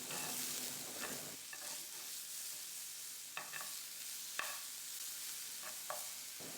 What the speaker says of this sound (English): Stir and mix in with the pan juices.